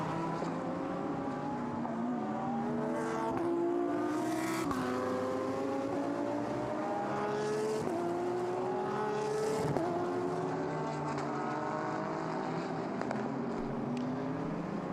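GT World Challenge Asia race cars lapping in qualifying at Okayama, their engines droning steadily with rising and falling pitch as they accelerate and shift, a continuous loud roar of nearby cars with no break throughout.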